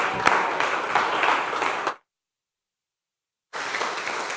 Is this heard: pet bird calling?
no